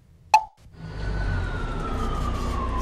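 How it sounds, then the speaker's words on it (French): A siren sound effect from a button in a children's book plays after a short plop-like click, a thin, faint wailing tone that rises and then holds steady, with no talk. "Bruno appuie sur le bouton sirène."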